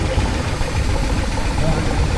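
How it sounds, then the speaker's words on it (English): A 4-inch scale Fowler steam traction engine runs at a Cheshire steam fair, giving a steady, close, rhythmic mechanical rumble with voices in the background. "Nice engine that is, brilliant, well done, Carl."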